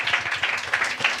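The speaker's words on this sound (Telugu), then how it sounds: "గట్టిగా చప్పట్లు కొడదామా?" A church congregation claps loudly together during a sermon in a steady, fast rhythm of close, bright hand claps.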